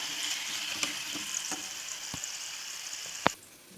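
Chicken rolls fry in oil with a steady, moderately loud hissing sizzle, punctuated by a few sharp taps and a final clack before the sound drops away.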